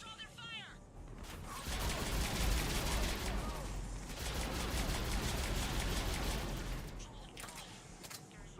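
Mass Effect 3 firefight: dense, continuous gunfire with rapid bursts and booms fills the scene, loud and sustained, with a voice and radio-like chatter briefly heard at the start and end.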